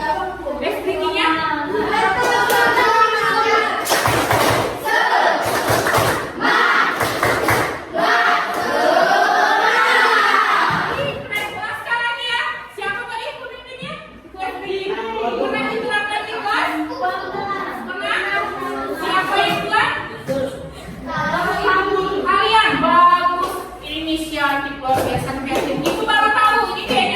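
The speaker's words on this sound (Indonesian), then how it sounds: "Tepuk semangat?" A school class performs the rhythmic spirit clap, tepuk semangat: a few sharp group claps ring out near the start, then chanting voices and classroom chatter carry on loudly throughout.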